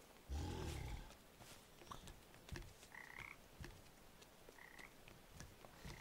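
A frog croaks in the video game Papo & Yo, one loud deep croak followed by fainter chirping calls over a low ambient background, with no talk.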